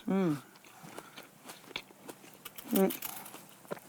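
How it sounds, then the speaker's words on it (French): Someone bites into a firm, not fully ripe white-fleshed pear, producing a couple of close, sharp crunches and soft chewing between bursts of French conversation. "Elle n'est pas complètement mûre, elle est encore un petit peu ferme. Ouais. Blanche, elle va être très juteuse. Alors là, ça croque."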